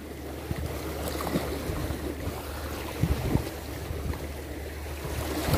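Sea waves wash steadily onto the shore at Abu Dhabi during on-shore fishing on a hot, humid day, with the water moderately choppy, forming a continuous wash mixed with gusty wind noise and a low hum, with no voices.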